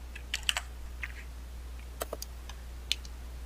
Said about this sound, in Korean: Alt W를 눌러볼게요